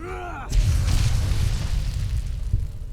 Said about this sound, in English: It fucking exploded.